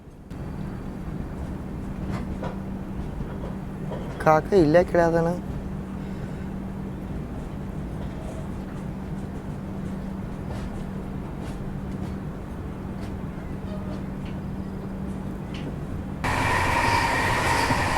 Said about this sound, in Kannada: ಯಾವುದೋ ಟ್ರೈನ್ ಬರತೈತಿ.